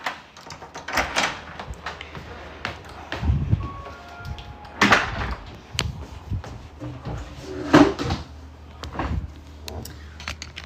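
Doors in a house open and close with several knocks, bumps and latch clicks spread out over the stretch, moderately close, with faint shuffling between.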